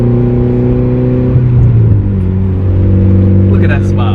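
A tuned 200k-plus-mileage Mitsubishi Evo 9 MR engine drones loudly from inside the cabin, its steady droning hum building slightly midway, while people talk over it.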